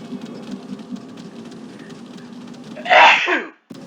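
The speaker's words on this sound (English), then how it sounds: "Very sorry for the sneeze." Near the end a single loud, close sneeze bursts out over a soft backdrop of low ambient game sound and murmur, then cuts off abruptly into silence.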